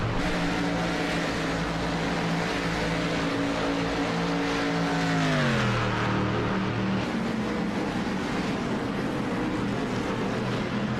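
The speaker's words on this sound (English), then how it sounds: "A very angry V8 under the hood of that car." A loud, growling Corvette V8 race car engine in a racing video game holds a steady drone, then its pitch drops as it shifts down, rumbling continuously throughout.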